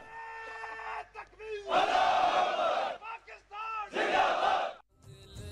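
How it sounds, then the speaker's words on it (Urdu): Pakistani army troops, with the army and air chiefs, chant slogans enthusiastically at a prime minister's visit, giving loud massed shouts in several surges with brief pauses between, close and energetic. "آرمی چیف، ایئر چیف اور جوانوں نے بھی پرجوش انداز میں نعرے لگائے۔"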